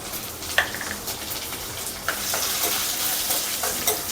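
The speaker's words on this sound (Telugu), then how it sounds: "ఆయిల్ వేడెక్కింది. ఇంక ఇందులో ఎండుమిరపకాయలు, జీలకర్ర," Dried red chilies, cumin and coriander seeds sizzle in about two spoons of hot oil for a Telugu cucumber chutney, a steady close hiss broken by a few sharp clinks of a utensil against the pan.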